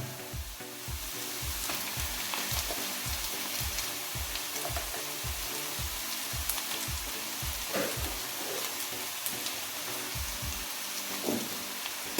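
A ground paste with tomato for chicken curry sautés in a pan, giving a steady close sizzle and crackle with regular scraping stirs of a spoon across the pan, with no one talking.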